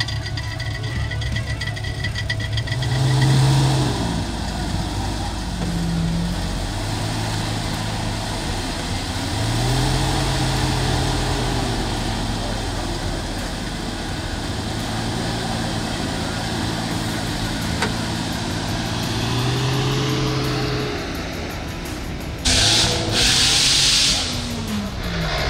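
A modified 4x4 off-road vehicle engine on a muddy mud-fest track revs again and again in rising and falling surges over a steady rumble, with a sharp hissing burst near the end.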